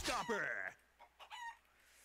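A chicken in the Point Blank shooter game, heard in knife mode, gives a loud squawking cluck and crow-like cry, then a few short softer clucks that fade off near the end.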